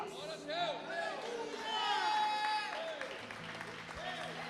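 Congregation applause at a sermon, a moderate wash of clapping and crowd murmur running under a preacher's loud, melodic speech throughout.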